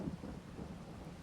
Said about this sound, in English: Hopefully it will soon stop to rain.